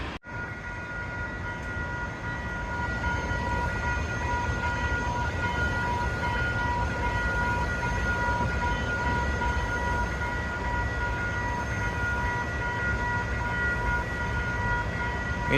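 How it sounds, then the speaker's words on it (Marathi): A train pulls into a station in Kitchener, its steady, loud rumble and rolling clatter continuing without a break from start to finish, with no voices. "ही आमच्या किचनरमधली ट्रेन आली."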